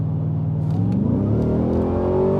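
A 2024 Ford F-150 Raptor R truck's engine revs up under acceleration, a loud close rumbling roar whose pitch climbs steadily through the clip, with no talk over it.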